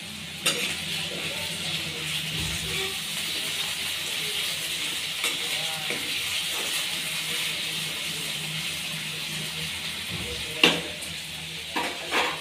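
Food sizzles steadily in a pan in a home kitchen, with occasional clinks and scrapes as it is stirred, all close and continuous without speech.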